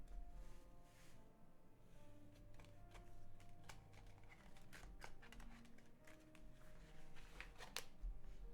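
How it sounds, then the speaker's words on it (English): Playing cards are shuffled up close in a quiet room, with soft riffling and crisp clicking taps recurring in irregular bursts. "Cards have gone shuffly."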